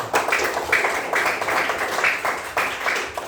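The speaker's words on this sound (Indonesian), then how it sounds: "Tepuk tangan buat saya." Children clapping in a classroom after a role-play activity, a brisk uneven patter of many small hands in several short bursts, fairly close and moderately loud, with no talk over it.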